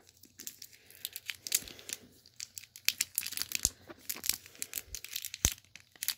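Cellophane wrapping on craft supplies being torn and crinkled open up close, with sharp irregular crackles and crisp bursts of crumpling that come and go in uneven clusters.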